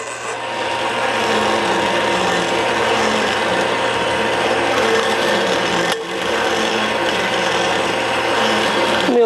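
Cutting the topping angle on a cylinder head valve seat with a seat cutter, removing material: a continuous, loud, close grinding and whirring that holds steady throughout, with one brief dip partway through.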